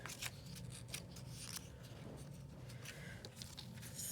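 Scissors snipping pieces of material, soft repeated cuts at close range, faint and quiet throughout.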